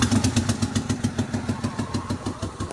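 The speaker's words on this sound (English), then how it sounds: "this is a Mercedes-Benz W211 chassis, having a rough idling" A Mercedes-Benz W211 engine idles roughly with misfires, close by: an uneven, pulsing chug with a regular beat that stumbles and wavers throughout.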